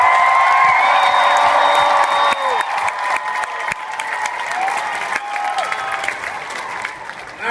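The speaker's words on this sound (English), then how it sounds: "can we give Tyler and the Seahawks a 253 ovation? Come on now, make some noise for him." Loud crowd applause and cheering with whoops, an ovation for Tyler and the Seahawks at a Tacoma event, dense clapping that swells and then gradually thins out.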